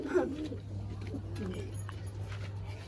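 Domestic pigeons kept in pairs coo briefly and softly at the start, followed by a low steady background hum with faint rustles and a person speaking nearby.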